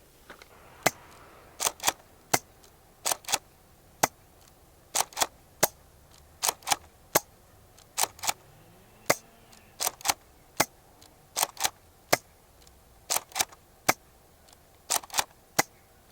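A Nerf Elite Rampage blaster fires repeatedly outdoors during a range test, giving sharp, crisp snapping pops, sometimes in quick pairs or triplets, spread irregularly over a quiet background at moderate distance.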